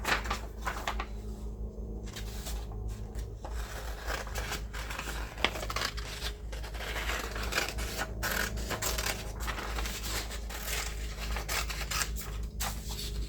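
Scissors snip through paper to cut out a small planner girl figure, giving a run of close, crisp cutting and rustling sounds with brief pauses between snips.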